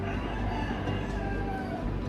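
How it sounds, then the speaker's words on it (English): A rooster crows against a steady background hum, its drawn-out call sounding somewhat muffled and distant. "I do have a singing rooster"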